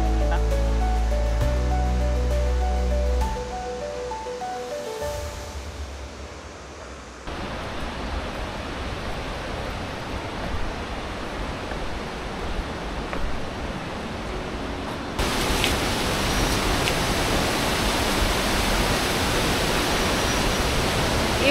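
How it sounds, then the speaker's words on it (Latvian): A large waterfall in northern Bali roars with a steady, dense wash of falling water, loud and continuous throughout, with brief shifts in intensity as the sound swells and settles. "Sakulu ir viens no grandiozākajiem ūdenskritumiem, ko esmu redzējusi."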